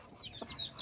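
Chicken clucks a few times at close range, short soft calls in a quiet space.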